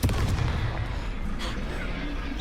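A Confringo fire spell going off in a video game, a sudden booming blast followed by a rumbling, crackling decay that quickly fades.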